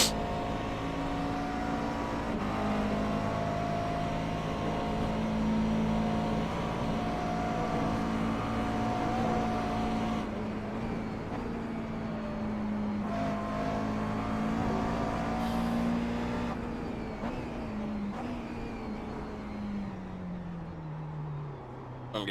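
A McLaren MP4-12C engine in iRacing at Virginia International Raceway drones steadily through a flying lap, a sustained loud rasp that rises and falls with shifts and throttle, heard alone and close throughout.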